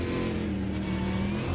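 A Supercars race car engine in the iRacing sim drones loud and continuous at high revs during a Bathurst round of an esports series, with no voices.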